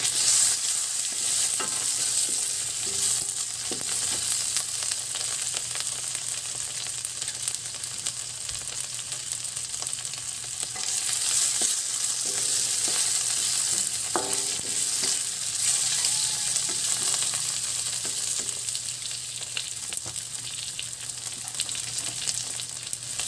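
Green chili frying with sardines in a pan gives a steady, bright sizzle with occasional stirring clinks and scrapes, close and continuous with no talk over it.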